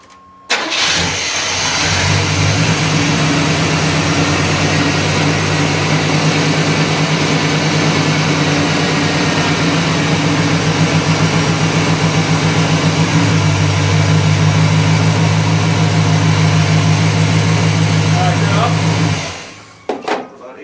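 Engine of a 1991 GMC Jimmy starting and then idling steadily for around 17 seconds, a loud close rumble with a persistent high squeal layered over it, cutting off at the end; voices murmur faintly.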